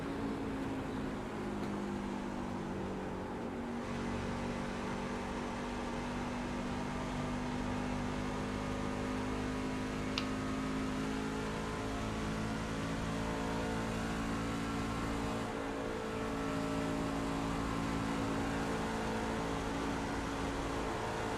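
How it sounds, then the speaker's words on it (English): Onboard recording of a Truck Series race truck engine at sustained high revs, a loud continuous drone with brief dips in pitch where the driver lifts off the throttle for the turns. "listen to the engine, how much he has let off"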